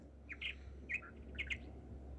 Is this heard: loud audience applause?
no